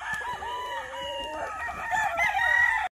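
Several gamefowl roosters on a game farm crow one after another, their calls overlapping at close to middle distance, with soft clucking and farmyard noise beneath.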